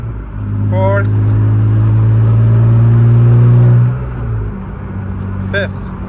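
A BMW E36 car accelerates through the gears, its engine drone loud and rising for about four seconds before dropping off at a shift. Someone speaks briefly at the start and near the end.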